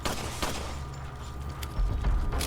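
Rapid bursts of gunfire from the video game Resident Evil 4, dense and continuous with sharper cracks throughout, with no talk over it.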